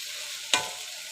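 Taro leaves simmering down in a wok with hilsa fish head, a steady close frying sizzle with one brief louder stir or scrape partway through.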